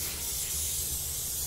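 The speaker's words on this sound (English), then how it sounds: "Now I'm spraying," Spray glue hisses from a can during rug making, a close, steady aerosol spray lasting over a second with a small click at the end, no voices.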